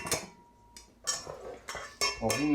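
Metal spoon scraping and clinking against a salad bowl while ripe avocado halves are scooped out, several short close scrapes and taps in irregular succession.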